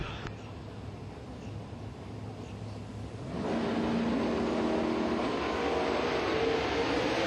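A 545 cubic inch naturally aspirated big block drag race car engine at a 2012 Spring Civil Wars race: a low background rumble, then a loud, sustained roar from about three seconds on, its pitch climbing steadily.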